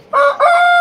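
A single rooster crows loudly and close by, one full cock-a-doodle-doo lasting under a second with a rising start and a long held final note.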